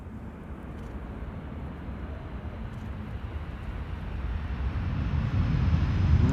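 Airliner approaching the center runway at Amsterdam Schiphol, a broad distant roar that slowly grows louder over several seconds, with wind noise.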